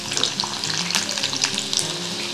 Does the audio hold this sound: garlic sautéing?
yes